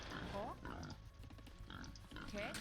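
Boar grunts in the Age of Empires II strategy game, a few short rough bursts near the start and end, layered under steady commentary talk and game ambience.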